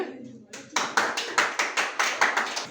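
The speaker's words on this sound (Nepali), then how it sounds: "बहिनीको लागि एकचोटि ताली बजाइदेऊ त सबले।" A group of students claps for a girl at a school project display, about ten even, rhythmic hand claps in a quick steady beat, close and clear after a brief murmur.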